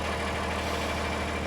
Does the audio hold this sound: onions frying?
no